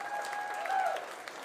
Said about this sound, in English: Big round of applause for Brett Ligon